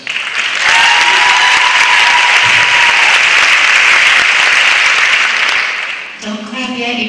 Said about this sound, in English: Don't clap yet, you haven't heard it.